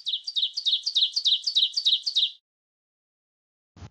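A small bird chirps in a quick, bright run of about a dozen repeated notes lasting two seconds, then silence and a short thump.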